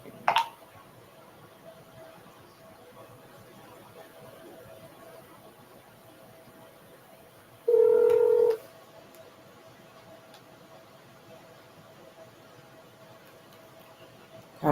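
A single short burst of phone dialing tone rings out near the middle of an otherwise quiet stretch with a low background hiss, as a number is keyed on a telephone.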